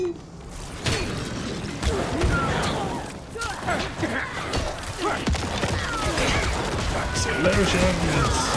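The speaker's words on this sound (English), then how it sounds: "explosions!" Crashing, smashing bursts and heavy impacts from explosions in the horror video game Scareborne form a dense, continuous clatter, with one sharp crack standing out midway and voices talking underneath throughout.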